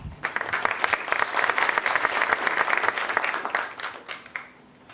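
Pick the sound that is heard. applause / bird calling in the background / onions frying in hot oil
applause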